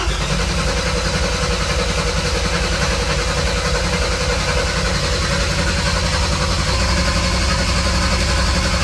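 A rebuilt Mercedes M104 turbo engine in a W203 runs continuously at an even idle, a loud broadband mechanical drone with no talking throughout.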